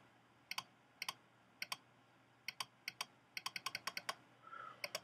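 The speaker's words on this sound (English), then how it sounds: "Let's just go and type it." Crisp keystrokes on a computer keyboard tap out in small irregular bursts, close and fairly quiet against a low background hum, quickening into a faster run near the end.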